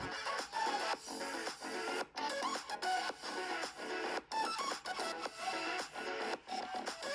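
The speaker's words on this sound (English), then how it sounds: "I sew it down and then I flip it over and then sew that down" A sewing machine runs in steady bursts while stitching down a French seam on a pants pocket for a jogging suit, a dense rhythmic mechanical rattle broken by brief pauses, close and loud throughout.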